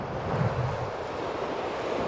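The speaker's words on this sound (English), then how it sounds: "It is so windy." Strong wind blowing outdoors on a Wyoming river during fly fishing, a loud continuous rumbling buffet across the microphone that stays steady for the whole moment.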